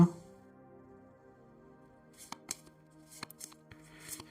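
Tarot cards are drawn and handled near the mic: a soft slide at first, then a series of crisp flicks and snaps of card stock, with quiet pauses between them.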